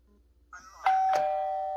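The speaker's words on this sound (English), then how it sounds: "it's just a beep, beep, beep, beep." A smart fingerprint door lock gives a short electronic chime of two quick tones, followed by a steady high beep that holds to the end, close and fairly quiet.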